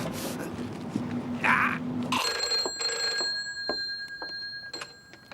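A telephone bell rings in an indoor scene from a French TV drama, its steady metallic ring sustained for several seconds after a brief burst of scraping noise, fairly close, with scattered clicks and no talking.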